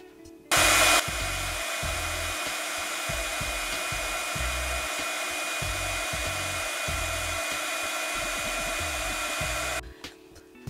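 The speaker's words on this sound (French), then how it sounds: "je verse de la poudre à embosser transparente et je chauffe avec mon pistolet à embosser" A heat embossing gun blows steadily for about nine seconds while melting clear embossing powder on a scrapbooking page, a continuous whirring hiss that starts abruptly after a brief louder burst and cuts off cleanly near the end.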